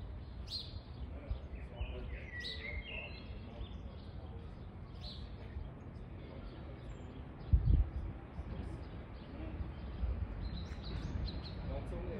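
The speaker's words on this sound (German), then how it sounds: "Dort oben sieht man die Amsel. Und man hört sie vor allem." Eurasian blackbird singing from a treetop in Lucerne in April, clear fluting phrases at moderate distance over steady low urban rumble, with a brief thump midway.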